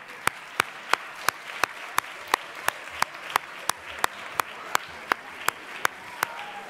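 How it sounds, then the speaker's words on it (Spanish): A crowd applauds for named award recipients at a ceremony, with sharp, evenly spaced rhythmic claps in unison ringing out about twice per second. A faint murmur of crowd noise sits underneath. "Venga, un aplauso para ellas."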